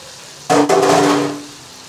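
Spices and onion sizzling as they sauté in a hot pan for a Moroccan appetizer, a sudden loud burst of frying hiss that holds steady, then fades after about a second.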